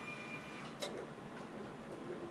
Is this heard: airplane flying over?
no